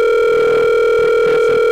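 A steady, loud telephone dial tone hums without a break while a call is being placed, with no voices.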